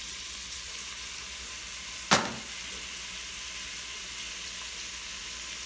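Vegetables for a low-carb chicken and veggie soup sauté in a pan with a continuous, even sizzle, broken once by a sharp scrape or clack of a utensil partway through.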